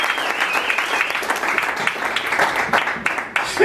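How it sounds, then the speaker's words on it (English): A church congregation claps in praise of God, a dense, steady wash of many hands ringing close and full from start to finish with no pause. "Let's give God a hand clap of praise"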